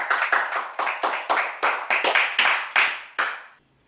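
A small group claps for Pak Rizal Cumi in about nine quick bursts of hand claps close by, the last one trailing into silence.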